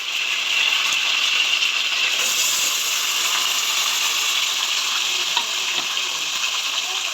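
Onions hit hot oil with fenugreek and curry leaves for a fish curry. They sizzle and fry loudly and steadily at close range, with stirring throughout and no pause.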